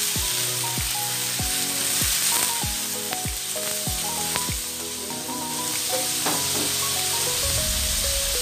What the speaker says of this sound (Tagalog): Lalagyan na natin yung ating mixed vegetables. Ayan. Sigitan natin yan.